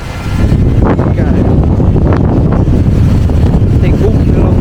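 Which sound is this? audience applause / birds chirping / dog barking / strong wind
strong wind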